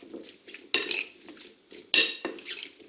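Utensils toss a zucchini and fresh herb salad in a bowl, with two sharp clinks of metal against the dish among softer scraping and mixing sounds, close and unaccompanied by speech.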